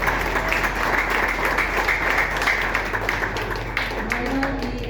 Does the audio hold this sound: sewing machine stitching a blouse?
no